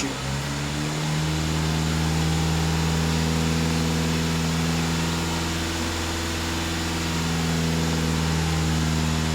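Skoda Kodiak 2.0 TDI diesel engine held steady around 2500 rpm, a loud, even mechanical hum with a constant low drone heard close by, with no voices.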